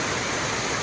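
A small waterfall at Curug Putri Palutungan, at the foot of Mount Ciremai, spilling over a man-made dam: a close, steady broadband rush of falling water with no pauses.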